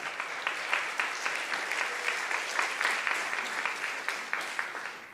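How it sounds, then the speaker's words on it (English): Steady applause fills a hall at a memorial day ceremony, a dense crowd clapping continuously for several seconds at even strength before tapering off. "Give her a round of applause."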